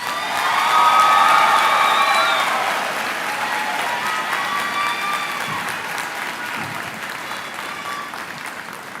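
A crowd at a 2025 high school graduation ceremony bursts into loud applause with cheers and whoops, peaking early and then tapering to steadier, softer clapping as some high shouts ring out above it.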